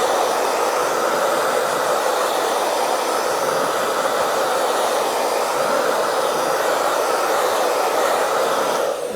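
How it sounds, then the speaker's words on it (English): A hairdryer blows steadily on a laser copy, a loud constant whooshing roar up close that holds unbroken for about nine seconds before cutting off at the end. "I'm just going to give that also a burst with my hairdryer."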